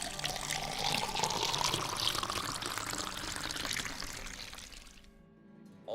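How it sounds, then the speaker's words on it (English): A drink is poured into a goblet in a steady, close liquid stream that lasts about five seconds and then stops abruptly into quiet. "perhaps pour me a goblet of Estest"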